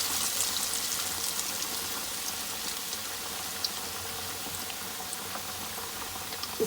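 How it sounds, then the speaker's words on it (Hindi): Pieces of fish dropped into very hot ghee for Lahori fish fry, a dense continuous hiss and bubbling crackle of frying fat, close and even, with no voices. "आप तेज़ गरम घी में ही फिश को फ्राई करेंगे, फुल गरम घी में डालेंगे"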